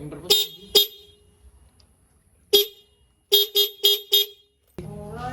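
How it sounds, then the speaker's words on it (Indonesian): A car horn honks in short sharp blasts: two quick beeps, a single one, then four rapid honks, loud and close. "Klakson memberi tanda suara untuk peringatan."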